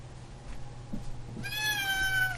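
A cat gives a single clear, rising meow near the end, over the low steady hum of a small electric fan running in a room.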